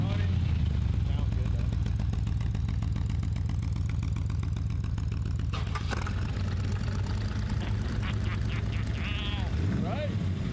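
A 1986 all-wheel-drive Yugo fitted with twin Cadillac V8 engines runs at a rough, throbbing idle at an outdoor car show, with people talking over it.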